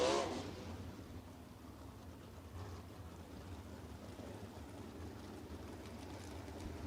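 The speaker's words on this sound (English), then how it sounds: "Trey Osborne in the front straightaway, operating with a little bit of a bend and a sway in the right rear of that number 6T Triple X chassis" A sprint car on a Triple X chassis runs down the front straightaway of a dirt track at a USAC sprint car event, a low, steady engine roar heard from a distance and holding fairly even with broad noise over it.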